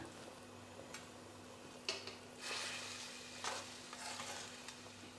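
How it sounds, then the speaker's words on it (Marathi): Water with turmeric boils in a cooking pot, giving a faint, steady bubbling hiss broken by occasional soft pops and light clinks. "या ठिकाणी आता या पाण्याला छान उकळी सुटली आहे बघा"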